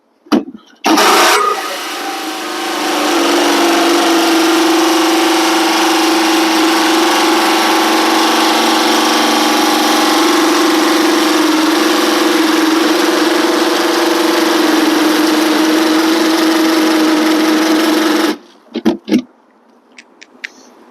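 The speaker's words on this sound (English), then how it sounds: "it's going to start drilling here." A drill fitted with the bit supplied with a mini-split kit bores a hole through a house wall, giving a loud, close, steady whirring drone for about seventeen seconds before cutting off abruptly.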